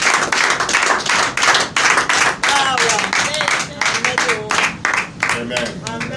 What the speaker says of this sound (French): Il faut applaudir à ce témoignage.